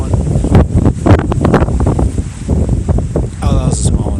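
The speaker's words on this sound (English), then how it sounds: "It sure is windy up here on Wind Rock." Strong gusts of wind on an Appalachian Trail mountaintop buffet and roar across the microphone in surging bursts, loud and close, with a voice breaking through near the end.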